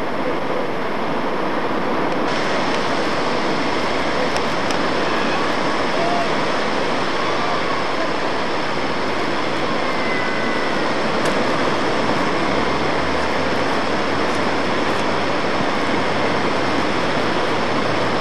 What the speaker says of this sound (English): Waves aren't very big.